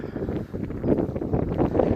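Low, gusty, freezing July wind rumbles against the microphone, fairly quiet and continuous, rising and falling slightly over two seconds.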